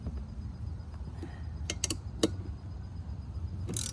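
Socket wrench tightening the blade bolts on an Ego 21-inch mulching mower, giving a few short creaks and ratcheting clicks close by over a low background hum, with a faint clatter near the end.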